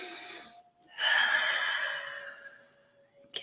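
One deep, drawn-out breath during a group breathing exercise at a live wellness session, a slow airy inhale and exhale heard close and quiet in an otherwise hushed room.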